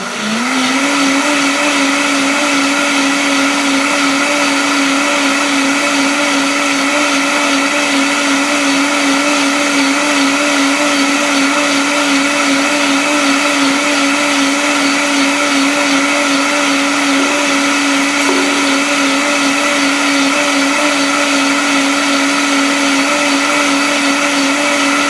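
A blender whirs loudly and without a break while blending homemade coconut milk, its motor pitch holding steady with a slight rise at the start.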